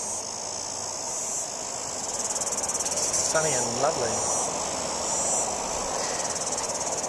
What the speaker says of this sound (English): the cicadas are very noisy